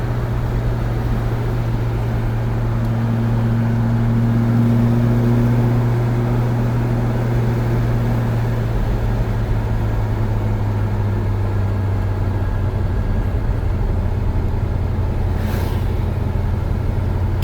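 A 1970 Pontiac GTO Judge with a Ram Air III V8 and four-speed runs steadily nearby, a deep, even rumble with a tonal drone that swells slightly in the middle, and no one talks over it.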